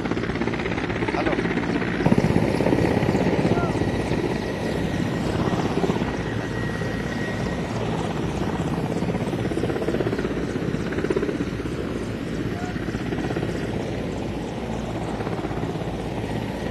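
An Indian Air Force helicopter at Puri roars steadily and close by, its rotor and engine noise continuous throughout with no break.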